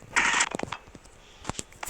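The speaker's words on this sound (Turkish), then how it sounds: "Kaptan aç kapıyı." A bank door is opened during a bank robbery scene, giving a short harsh mechanical creak followed by scattered clicks and clunks of the mechanism.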